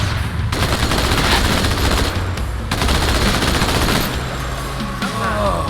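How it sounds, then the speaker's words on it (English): Sustained rapid gunfire from a weapon in Halo 2 rattles loud and close for several seconds in dense automatic bursts, with brief breaks between volleys. "Shoot the gun."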